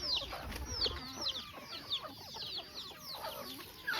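Chickens cluck and chirp on a farm, where a rooster with coryza scabs on its head is still active, a busy run of bright calls close by with no voices.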